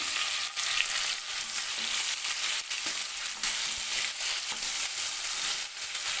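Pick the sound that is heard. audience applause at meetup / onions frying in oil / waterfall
onions frying in oil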